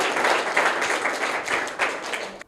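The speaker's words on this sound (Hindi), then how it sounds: "तो इनके लिए भी जोरदार तालियां हो जाएं।" Dense applause from a crowd at a private school prize-giving fills the whole stretch, steady and fairly loud, tapering off abruptly at the end.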